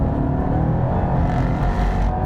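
A 2018 Jaguar XE SV Project 8 super saloon with 592 bhp accelerates hard in second gear, its engine roaring loud and steady throughout from inside the car, with no speech over it.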